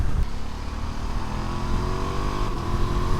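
A Ducati Multistrada V2S motorcycle engine hums steadily while riding, a mid-pitched drone with rising tone as it pulls, heard close and continuous with no talk.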